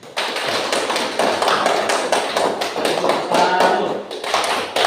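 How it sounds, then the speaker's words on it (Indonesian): A physics classroom group claps for the first presentation team, with dense, steady hand clapping that lasts throughout and some voices mixed in. "bisa tepuk tangan untuk kelompok 1"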